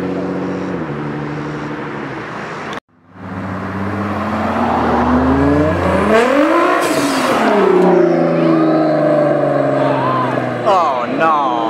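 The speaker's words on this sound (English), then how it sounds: "Turbo sound is amazing, bro." A supercar's turbocharged engine revs loudly as it pulls away from a car meet, the roar climbing and sweeping in pitch over several seconds, with bystanders talking and cheering over it.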